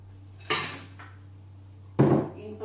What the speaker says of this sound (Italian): Adesso andiamo a mettere nel boccale i calamari